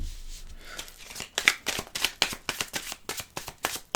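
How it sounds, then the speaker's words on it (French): Tarot cards dropped and cut by hand, a quick run of crisp papery slaps and riffles, close and distinct, about a dozen in a row. "je vais faire tomber les cartes"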